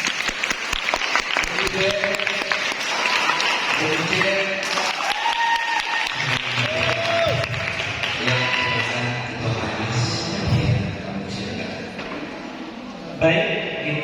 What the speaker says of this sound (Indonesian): angkat tepuk tangan